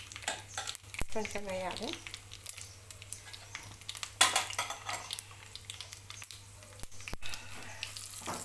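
Dry red chillies with black gram and chana dal tempering in hot oil for gongura pickle, faint sizzling under a spoon stirring and clinking against the pan, with someone speaking briefly.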